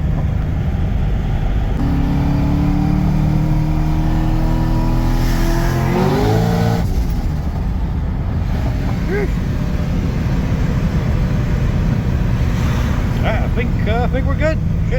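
A car engine, fitted with a newly replaced belt tensioner, revs repeatedly toward 7000 rpm with a rising whine; loud and close, with a person talking over parts of it.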